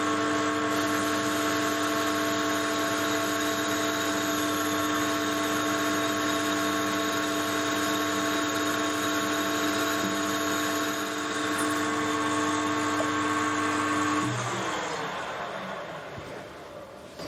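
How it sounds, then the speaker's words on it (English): A metal lathe parting off a piece of unidentified metal while making a Webster engine, a steady whining hum with tonal ringing from the cut running for a long stretch before the pitch drops and the machine winds down. "I'm really surprised how easily that's parting, how well it's cutting."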